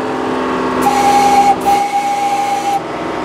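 A small train, the Old 97, rumbles along the rails through a train boneyard with a steady hum, a sustained whistle tone sounding for about two seconds over the running noise.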